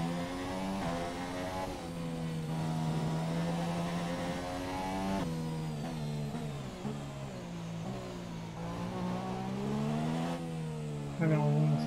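A Formula 1 car in the F1 2017 racing game revs and accelerates steadily, its engine note climbing and dropping through gear changes, loud and continuous for the whole stretch.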